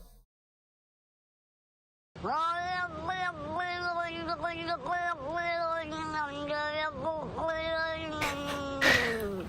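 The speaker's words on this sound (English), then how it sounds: "These are the only acceptable cat sounds, okay?" In the Steins;Gate visual novel, a cat lets out a long series of drawn-out, wavering meows that rise and fall, loud and close, after a brief silence, ending in a burst of noise.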